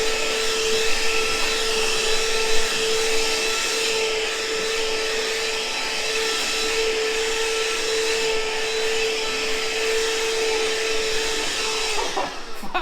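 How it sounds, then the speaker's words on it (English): A Ryobi 18-volt cordless vacuum cleaner runs continuously with a steady high-pitched whine and airy rush, cutting out briefly near the end. "we'll vacuum it up with the Ryobi 18 volt"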